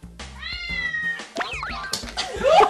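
A cat meows loudly in rising, drawn-out cries and then snarls and yowls in reaction to human speech played back in cat language through a cat translator device, close and alone with no voices over it.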